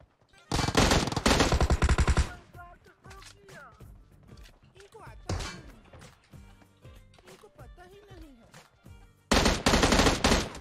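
M16 rifle fire in the shooter game PUBG, with loud rapid bursts of automatic shots at the start and again at the end, separated by quieter footsteps and movement sounds, with a player talking.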